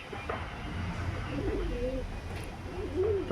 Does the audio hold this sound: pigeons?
yes